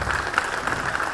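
Applause at a PU college farewell ceremony for 2023, a brief stretch of steady crowd clapping at moderate level, dense and even without individual claps standing out.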